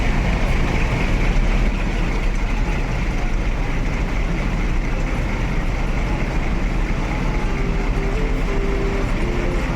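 Bus pulling out of Kampung Rambutan terminal, a loud continuous engine rumble and road noise held steady and close for the whole stretch.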